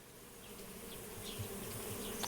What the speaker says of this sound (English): Oh, there's the bees.